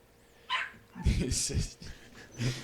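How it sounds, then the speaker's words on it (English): A dog gives a few short barks and whimpering yips close by, mixed with people talking. "the dog's barking out there"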